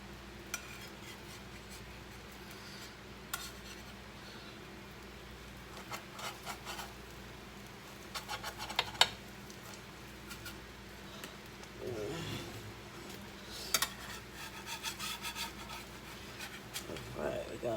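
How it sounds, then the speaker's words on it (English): A spatula scraping and rubbing across a frying pan while cooking, with intermittent faint scrapes and a few sharper clacks scattered over quiet kitchen background and brief talk. "Everybody got to use this spatula here"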